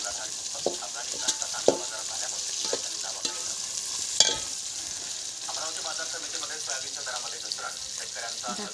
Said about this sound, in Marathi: आणि कांदा तेजपत्ता हे सगळं मी टाकलेलं आहे आता तेलामध्ये